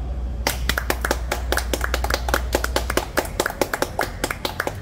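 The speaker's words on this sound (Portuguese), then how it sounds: "Salva de palmas." A round of applause in a Brazilian gathering: dense, rhythmic hand clapping, close and loud, settling into sharp, separate claps toward the end, with no talking over it.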